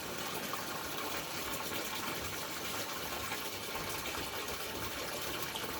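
Alkaline dam water pours steadily into a small test tube for a pH test, a continuous close trickle and splash with no talking.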